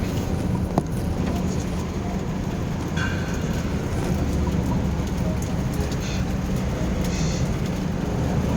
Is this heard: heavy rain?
yes